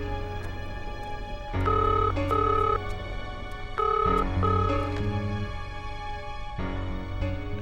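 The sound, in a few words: telephone ringing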